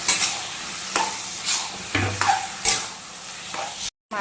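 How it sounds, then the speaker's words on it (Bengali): A spoon stirs taro leaves with salt and turmeric in hot oil, making repeated scraping strokes about every half second over a soft sizzle, ending in a brief cut to silence. "এটা ভালো করে নেড়ে নেব।"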